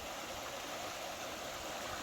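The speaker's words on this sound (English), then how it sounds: "So far we've been kind of paralleling this creek." Creek flowing beside a wooded trail in a green tunnel of trees, a steady close rush and gurgle of water with no other sounds.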